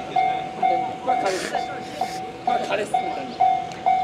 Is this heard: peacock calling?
no